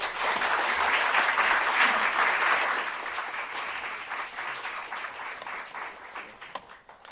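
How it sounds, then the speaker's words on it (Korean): A church congregation breaks into sustained, dense applause welcoming a pastor to speak, loud and steady for several seconds before thinning out toward the end. "큰 박수로 환영해 주십시오"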